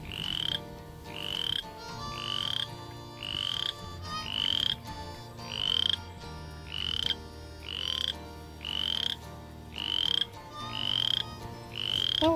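A spring peeper frog in a wet patch of land calls steadily, with about a dozen loud, rising high peeps roughly once a second over a low continuous hum.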